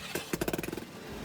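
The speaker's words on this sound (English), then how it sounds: "This customer came in asking if their truck is supposed to sound like this." A rough truck engine, run after driving through water, revs up with a quick burst of about a dozen sharp knocking pulses, then settles into a steady low rumble.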